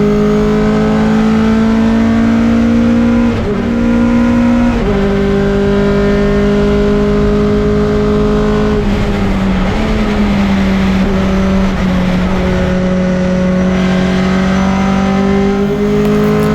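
Racing pickup truck engine on track at Silverstone, a loud continuous drone in the cockpit with sharp pitch drops at gear changes, holding steady between shifts, with no talk over it.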